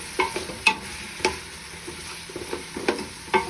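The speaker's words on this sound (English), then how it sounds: "as you can see, my vegetables are frying up nicely" Fennel and onions frying in oil in a pan, a soft background sizzle with sharp spoon clinks and scrapes against the pan at irregular intervals.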